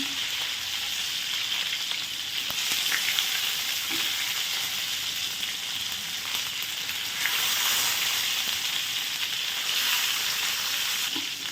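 Stuffed brinjals frying in oil over medium heat, a loud, continuous dense sizzle with an even hiss and no pauses, heard close and alone.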